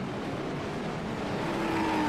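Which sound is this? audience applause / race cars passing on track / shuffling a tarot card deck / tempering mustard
race cars passing on track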